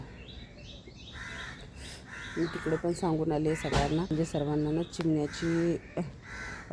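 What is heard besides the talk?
crows cawing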